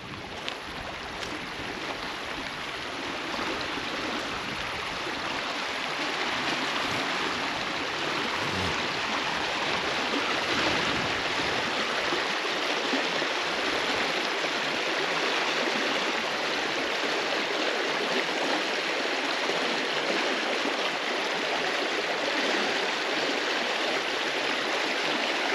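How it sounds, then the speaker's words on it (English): Hill country river water rushing steadily over rocks at South Llano River State Park, a constant broad wash of flowing water with no voices, unbroken from start to finish. "Some hill country river water."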